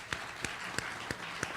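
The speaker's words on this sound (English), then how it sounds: "We're going to just clap for the Intrepid crew" At a Veterans Day ceremony, sparse claps for the USS Intrepid crew come as five distinct, evenly spaced sharp hand claps at moderate distance over quiet background murmur.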